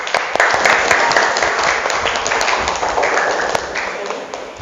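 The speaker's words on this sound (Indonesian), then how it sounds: "Beri aplaus untuk kita semua." A classroom of students claps together in sustained applause, dense and close at first, then thinning out and fading toward the end, with a few voices underneath.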